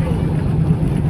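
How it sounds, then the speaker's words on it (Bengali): A boat engine droning on the Nikli Haor wetland in Kishoreganj, a loud, steady low rumble filling the moment with no clear change in pace, heard close from aboard. "এই যে বোট স্লো করে দিছে।"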